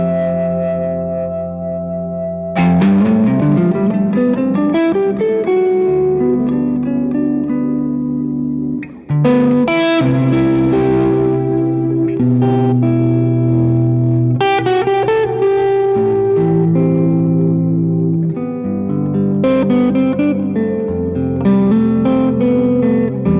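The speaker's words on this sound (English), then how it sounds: "Neck pickup on the Les Paul, still with the obvious, into the soft focus reverb." A Les Paul electric guitar on its neck pickup plays clean, sustained chords and notes through a soft focus reverb pedal, washy and shimmering, with a brief dropout near the middle and no talking.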